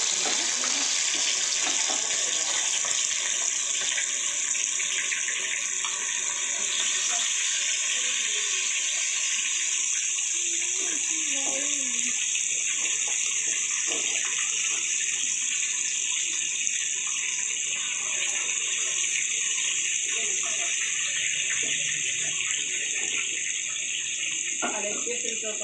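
Chicken leg pieces fry in hot oil with a constant, even sizzle and hiss that holds steady from start to finish, while a voice is faintly present in the background.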